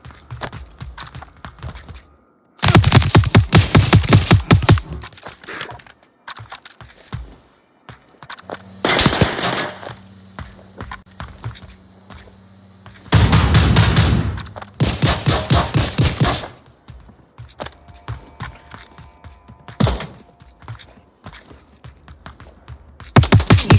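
Bursts of rapid automatic gunfire in the VR shooter Onward, with long rattling volleys and single shots separated by short quieter gaps, loud and close.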